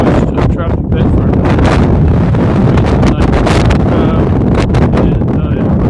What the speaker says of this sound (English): it's windy today. Unfortunately, you're going to probably hear the wind here